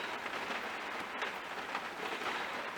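Steady rain falling at a caravan site in Delamere Forest, an even hiss of drops on surfaces, moderately loud and unbroken with no talk.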